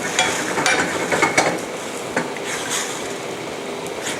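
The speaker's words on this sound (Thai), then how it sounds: "น้ำส้มสายชูบาสมิกค่ะใส่ลงไปเลย ไปข้างๆน้ำนิดนึง" Balsamic vinegar poured into a simmering pan for a salmon and shrimp dish makes a loud, dense hiss and sizzle close by, with clicks and scrapes of cookware scattered through.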